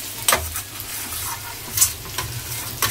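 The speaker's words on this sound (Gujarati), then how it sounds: "ઢોકળાનો વઘાર થઈ ગયો છે મસ્ત મજાનો" Chillies sizzle in hot oil as a tempering for dhokla, giving a continuous close frying hiss with a few brief spoon scrapes and clinks over it.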